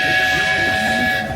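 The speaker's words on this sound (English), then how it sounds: "stay seated until our train comes to a complete stop." A Walt Disney World Railroad train rolls to a halt at a station, a loud steady rumble with a sustained tonal whine, while an announcement voice plays over it.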